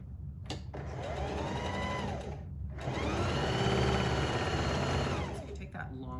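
A sewing machine stitches a seam on a newborn nightgown, a steady close motor whir running almost throughout with one short pause near the start and another near the middle.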